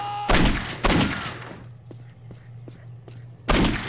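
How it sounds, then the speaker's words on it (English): Shotgun blasts in Postal 2: three loud, booming shots, two in quick succession and one after a pause, each with a reverberant tail, faint clicks and thuds in between. "Oh, she had a shotgun."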